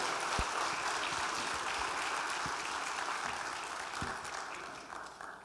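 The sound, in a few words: congregation applauding in church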